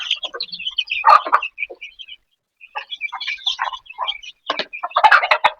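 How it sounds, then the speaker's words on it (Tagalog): Chicks cheeping busily at feeding time, a close, bright flurry of short high peeps in uneven bursts with a brief lull partway through. "magpapakain ako sa mga sisiw"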